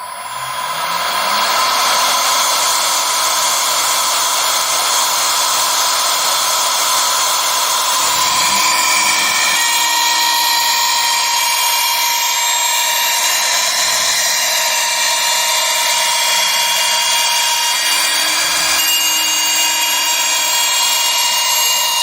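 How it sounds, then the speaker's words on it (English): MillRight Mega V Pro CNC spindle spinning up and facing down a wood block, a loud steady high whine that rises at the start and holds continuously, with occasional low knocks from the cut. "get in position, start the spindle, and face it down"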